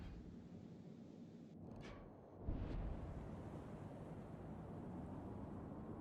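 Naval guns of a Montana battleship booming during a World of Warships battle, with two muffled distant blasts and a heavy low rumble rolling under steady wind-like ocean ambience, no speech.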